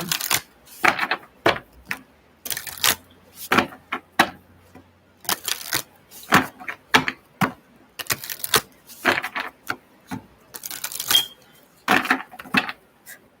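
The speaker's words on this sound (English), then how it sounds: "So I do have this shuffling process." Cards shuffled by hand during a psychic reading session, heard as bursts of crisp papery riffling and tapping, close and fairly loud, repeating in short irregular clusters throughout with no talking.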